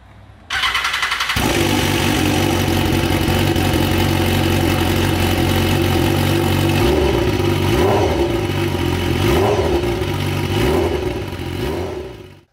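A BMW S1000RR sport bike with a leaking, rebuilt engine cranks and fires up abruptly, then settles into a loud, steady idle with a slight wavering rhythm before cutting off at the end.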